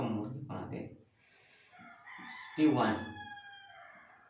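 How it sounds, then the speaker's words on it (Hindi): A rooster crows in the background with a long, rising and falling call, heard at moderate distance while someone speaks before and over it. "देखो अभी मुर्गे की आवाज आ रही है"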